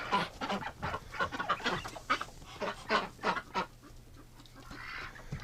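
A flock of wintering ducks being driven outdoors gives a run of loud, close honking quacks in quick irregular bursts, tapering off toward the end with no talking.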